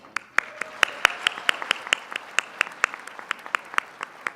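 A small audience at a city event claps for two young performers, sparse and distinct sharp claps ringing out at a moderate distance with no other sound between them.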